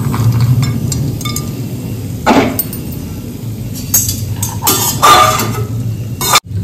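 Roasted dry fruits tipped from a pan onto a plate, with scattered clinks and scrapes of metal and dishware, close and sharp, separated by short quiet gaps.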